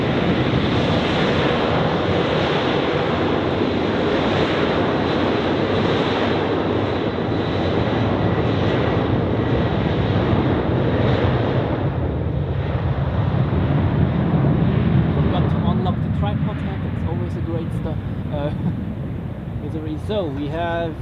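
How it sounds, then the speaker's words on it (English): A SunExpress airliner departs from the runway at Zurich Airport, its engines a loud, steady jet roar that holds throughout before thinning slightly toward the end. "now the SunExpress is departing"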